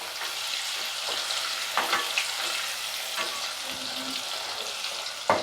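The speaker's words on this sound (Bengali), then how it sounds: "ঢাকা দিয়ে ভাজবো, তাড়াতাড়ি হবে" Sliced potatoes sprinkled with turmeric fry in oil in a covered pan for a raw banana fritter curry, giving a steady close sizzle and crackle throughout with a few louder pops and spatters, no talking.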